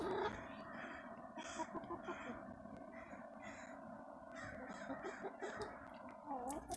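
Chickens cluck and murmur in short, repeated bursts over a steady outdoor background, moderately close, with no talking.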